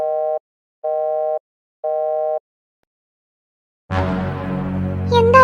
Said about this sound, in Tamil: இப்ப ஃபோன் அடிச்சாலும் எடுக்க மாட்டேங்கிறான்